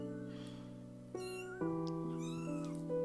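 Kitten meowing several times in succession, close and clear, with high tonal cries stepping between pitches over a soft background.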